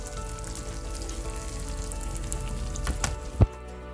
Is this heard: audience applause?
no